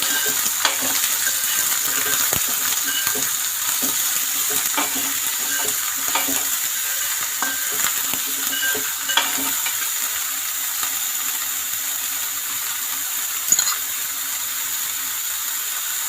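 Chopped onions frying in a pan for Kerala-style onion theeyal, stirred throughout, giving a steady close sizzle with light scraping ticks and one sharper clatter near the end, no talking.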